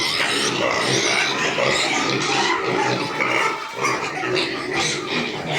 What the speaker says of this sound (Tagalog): Dami ni baboy, eh.